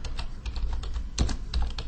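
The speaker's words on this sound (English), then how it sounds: "so I'm going to type it in petty cash." Computer keyboard keys are pressed in a quick, steady run of close, crisp clicks and taps, with no voices.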